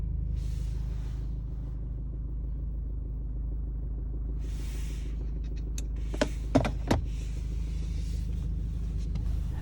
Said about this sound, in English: The engine starts.